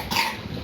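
A single short, harsh cough close to the microphone, with no talking.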